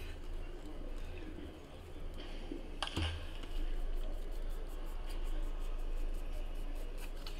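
A baseball bat strikes a ball with a single sharp crack, faint and distant, surrounded by low background noise and light clicking.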